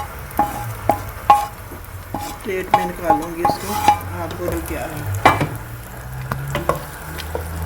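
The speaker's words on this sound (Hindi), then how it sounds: "अब मैं आप साग में डालने लगी हूँ, तड़का लगाने लगी हूँ साग को" Tadka of spices cooked in desi ghee sizzles and crackles as it is poured into saag and stirred, with a spoon scraping the pot and someone talking over it.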